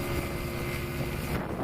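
A STOL light aircraft at a Swamp STOL short takeoff and landing competition in Jennings, Louisiana, its engine a steady, loud, broadband roar with wind buffeting, sustained throughout a takeoff run.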